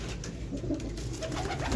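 A crowd of pigeons coos steadily and close by, overlapping throaty calls forming a dense, continuous murmur with no pause.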